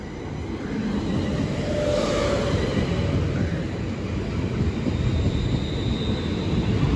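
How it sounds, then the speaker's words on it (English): A passenger train on the Birmingham New Street to London Euston service rushes past at Bletchley, a dense, steady rolling roar of wheels on track staying loud and close for the whole stretch. "on this side the 10:40 service from Birmingham New Street to London Euston"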